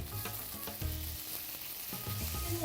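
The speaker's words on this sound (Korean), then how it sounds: "자 먼저 요 돼지고기를 볶아줄게" Pork sizzles and crackles in a hot pan, with soft stirring scrapes and a brief louder pop near the end.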